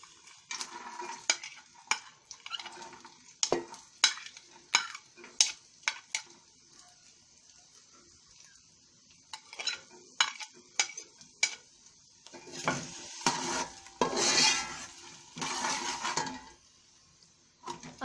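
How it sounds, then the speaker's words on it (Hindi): Onions frying lightly in hot oil in a pan while chicken pasta is made, with repeated sharp clinks and scrapes of a spoon stirring against the pan over a low sizzle. "अब इन प्याज को हम लोग फ्राई करेंगे"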